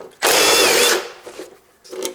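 A power tool drives a bolt near the heat shield of a Ford Duratec engine, one loud close whirring burst lasting under a second, followed by softer mechanical clicks and rattles.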